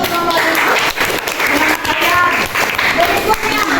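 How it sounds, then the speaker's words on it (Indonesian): A class of ninth-grade students claps for a group after its presentation, a dense, fairly loud burst of applause with talk mixed in. "tepuk tangan untuk kelompok"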